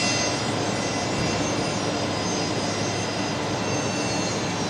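Fokker 70 jet airliner at Brisbane Airport, a steady broadband engine roar heard at night, continuous and fairly loud with no breaks across the whole stretch.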